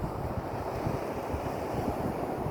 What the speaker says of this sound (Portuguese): E aqui tá o marzão de Guarapari.